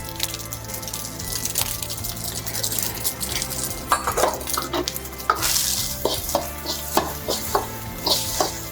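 Fried rice with a pinch of salt and sugar is stirred in a hot wok: continuous sizzling with repeated metallic scrapes and clinks of the spatula against the pan, close and busy throughout.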